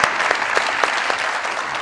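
A studio audience on a Pakistani comedy talk show applauds to welcome a female guest, a PTI women's wing secretary from Lahore. The clapping is dense and steady at close range and holds for the whole stretch with no talk over it.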